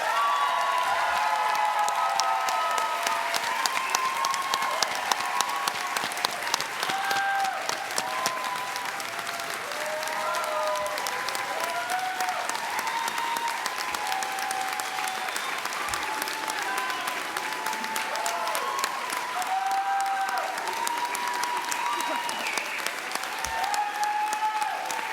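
Sustained audience applause at a university psychology graduate hooding ceremony, with the clapping dense, steady and fairly loud for the whole stretch, while a faint murmur of voices sits underneath.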